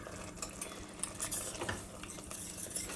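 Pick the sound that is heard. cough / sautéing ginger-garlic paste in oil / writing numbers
sautéing ginger-garlic paste in oil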